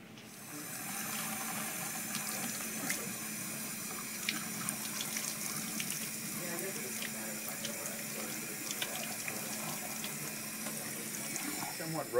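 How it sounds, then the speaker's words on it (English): Cold tap water runs steadily into a sink to cool a dental implant surgical guide in a dental lab, a constant splashing flow with occasional faint clinks, and a voice is briefly heard nearby. "you can run it under cold water"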